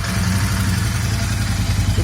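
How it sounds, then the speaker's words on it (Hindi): A Royal Enfield Interceptor 650 BS6 parallel-twin motorcycle idles just after starting, giving a steady low, thumping engine note with light mechanical clatter, close and continuous with no revving. "तो this is the note of the bike."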